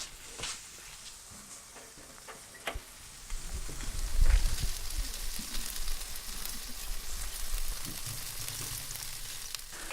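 Chicken wings and legs sizzle over a barbecue grill, a steady, close frying crackle with scattered pops that swell in the middle and keep going to the end.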